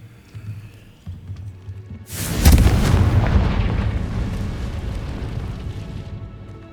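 A Confringo blasting spell explodes in Hogwarts Legacy with a sudden loud, deep boom, then a long rumbling tail that slowly fades.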